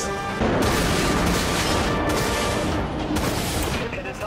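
Rapid-fire gunfire from the naval combat video game Dreadnought: a dense, continuous barrage of booming shots and blasts that stays loud throughout, with a brief gap near the start.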